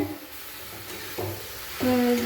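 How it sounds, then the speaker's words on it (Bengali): Jaggery and grated coconut are stirred together in a hot pan, soft scraping and low sizzling with a couple of louder stirring strokes near the end. "এরপর গুড় দিয়ে দিলাম এরপর নাড়াচাড়া করে"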